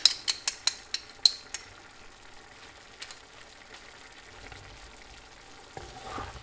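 Swedish meatballs with mushrooms, spices and mustard fry in a covered pan. A quick run of sharp clinks from a lid or utensil opens it, then a low continuous sizzle follows with occasional stirring scrapes and a rustle at the end.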